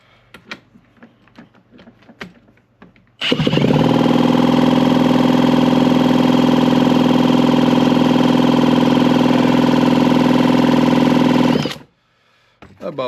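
A Yamaha TZR250 motorcycle engine on a bench is spun over for a compression test, giving a loud, steady mechanical drone for about eight seconds. It starts and stops abruptly, with quiet workshop clicks before and after.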